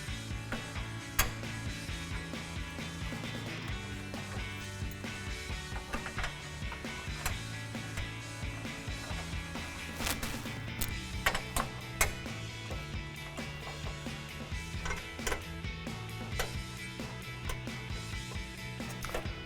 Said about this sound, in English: tighten it down with our 10mm socket